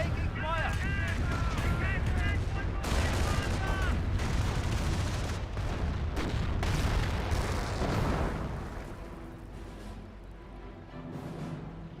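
A rocket barrage in the Company of Heroes strategy game, with dense rumbling explosions and rapid blasts pounding for several seconds before easing, while a commentator talks over it.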